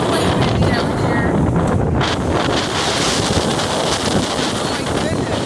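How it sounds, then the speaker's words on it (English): Strong outdoor wind buffets the microphone ahead of a storm, a loud continuous roar with gusty rumble throughout and faint talk beneath. "Yeah, it is quite windy out here."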